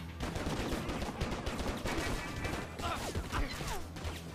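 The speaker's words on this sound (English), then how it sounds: "I'm being shot." Gunfire in the video game John Woo's Stranglehold comes as quick bursts of shots mixed with crashing impacts, busy and fairly quiet in the mix throughout, with brief voice sounds in places.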